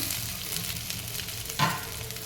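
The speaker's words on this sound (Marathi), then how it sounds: "तर आता याला छान परतून घ्यायचं" Whole spices and cashews sauté in oil in a pan, a close, steady sizzle with a brief, louder stirring scrape partway through.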